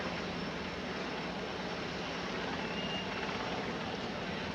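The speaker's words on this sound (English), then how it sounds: "And if they're going to wait for this helicopter to leave, they might be waiting a while." Helicopter circling over Fenway Park during a Blue Jays at Red Sox baseball game, a steady, loud, continuous engine and rotor roar that fills the whole stretch without pause.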